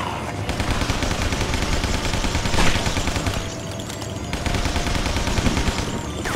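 Rapid bursts of gunfire in a zombie shooter game set among mob gangsters, loud and nearly continuous machine-gun-like volleys with a brief louder spike midway and no talking.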